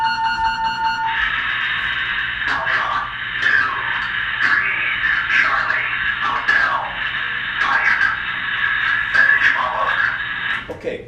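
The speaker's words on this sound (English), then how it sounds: "So that emergency action message would sound something like this." A Titan missile emergency action message comes over a radio: a steady warble tone first, then a distorted, band-limited voice reading the message through crackly static.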